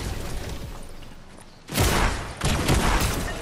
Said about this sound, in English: Whoa, he's got the laser gun!